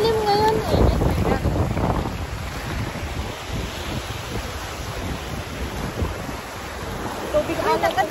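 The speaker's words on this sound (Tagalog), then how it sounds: "Actually, medyo malakas yung alon." Strong ocean waves roll and wash onto Paniman Beach in Cavite on an overcast day, a continuous surf roar with gusty wind buffeting the microphone and people talking briefly at the start and end.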